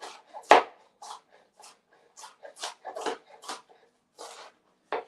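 A knife chops an onion on a board for vegan sushi, giving a crisp opening thwack followed by a run of lighter, irregular cuts against the board in a quiet kitchen.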